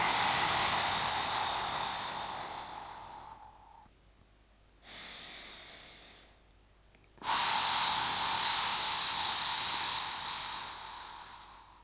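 Breathing during a back exercise for lower-back pain, long airy inhales and exhales close to the ear, with a quiet pause between breaths and no talking.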